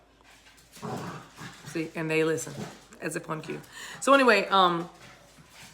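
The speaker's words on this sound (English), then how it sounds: "I'm sorry about my dogs" Dogs whimper and whine in high, rising cries while someone talks over them indoors, the whines briefly cutting through her speech.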